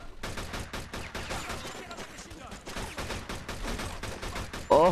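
Rapid, dense bursts of gunfire in the Mafia 2 video game, steady volleys for several seconds with a louder sharp shot near the end; faint voices murmur underneath.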